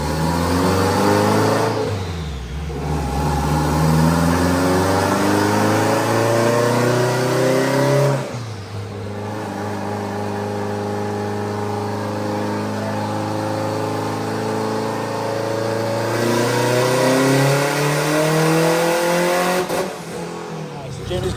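A boosted sand car engine revs hard in third gear on its first test run, loud rising and falling sweeps repeating with brief dips between pulls, close and dominant.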